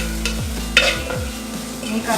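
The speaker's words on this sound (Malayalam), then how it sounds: "2-3 മിനിറ്റ് നല്ലപോലെ ഇളക്കി കൊടുക്കുക. നല്ലപോലെ ഇളക്കണം. മൺചട്ടി ആയതുകൊണ്ട് അടി പിടിക്കും." Duck roast curry stirred in a clay pot, close scraping and clattering of a spoon against the earthenware over a soft sizzle, a few distinct strokes; no talking.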